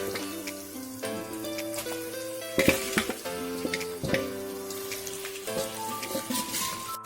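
Meat added to onions frying in a pan for a pumpkin and duck curry, a close, steady sizzle with scattered scraping stirs and clinks over a soft musical background, no talking.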